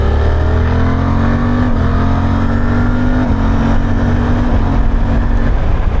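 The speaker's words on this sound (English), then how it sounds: "I'll just get on the gas a little bit and show you what the quick shifter's like." A Suzuki V-Strom 800 motorcycle accelerates hard on the road, its engine climbing steadily with quick-shifter upshifts cutting in briefly about every second and a half, loud and close under steady wind rush.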